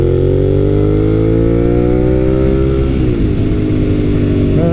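A 2003-2008 second-generation Suzuki SV650 V-twin motorcycle engine heard while riding on damp roads, loud and close with a steady rumble that climbs in pitch, then dips and settles, with wind noise over it.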